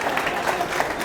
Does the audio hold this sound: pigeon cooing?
no